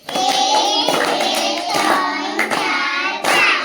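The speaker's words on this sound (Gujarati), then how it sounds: "ચલો 5 લાડુ તાળી પાડો જોઈએ." Children in a primary classroom clap a quick rhythmic 'five laddu' clapping pattern together, loud and close, with young voices calling along over the claps.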